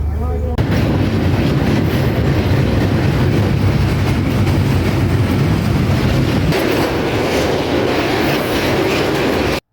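A passenger train runs from Darshana to Ishwardi in Bangladesh, its steady loud rumble and rhythmic clickety-clack of wheels on rails heard from inside the carriage, with some faint voices mixed in.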